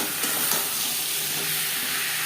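Spice paste of ginger, green chilli, cumin and coriander fries with mankochu in a pan, a close, steady sizzling hiss with faint stirring scrapes throughout, no voices.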